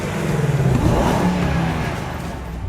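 Truck engine and exhaust roar under acceleration, a deep, throaty, steady rumble rising and holding, close and loud throughout with no talk.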